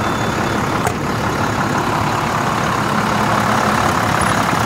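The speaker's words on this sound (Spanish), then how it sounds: "Motor Navistar de 6 cilindros en línea." A 2007 International 4300 truck's inline six-cylinder Navistar diesel of 190 HP idles steadily nearby, a continuous low rumble with a faint tick early on and no talking.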